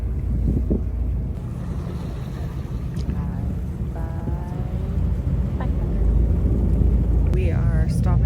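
A Catalina Express ferry runs toward the mainland, with a steady low engine rumble and wind buffeting throughout and faint background voices now and then.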